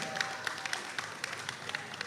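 Scattered clapping from a small crowd, a run of sharp claps spread across a couple of seconds, fairly faint and without voices.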